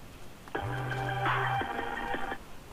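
A cell phone rings in the Saints Row: The Third video game, a short electronic tone phrase that starts after a brief pause and sustains for about two seconds, clear and synthetic over a quiet background.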